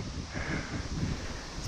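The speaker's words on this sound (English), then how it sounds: "It's pretty windy today" Wind blows outdoors during bass fishing on a stormy day, a soft, steady rush and buffeting at low level with no talk.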